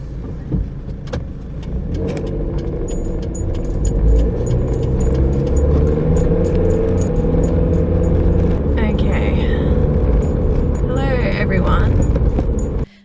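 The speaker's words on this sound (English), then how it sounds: "How do people vlog and drive without every bump in the road becoming an issue in the video?" A handheld camera inside a moving car picks up heavy bumps, rattles and jangling over a loud, steady road rumble, with a person talking throughout.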